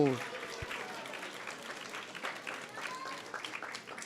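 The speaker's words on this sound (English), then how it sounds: "let's give a big round of applause to everyone who has joined us today evening" An audience applauds steadily, a moderate patter of many hands clapping that continues for several seconds at a slight distance.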